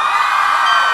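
Large outdoor concert crowd in Coyoacán shouting and cheering for a pop group, a dense continuous roar of many voices at loud, steady level.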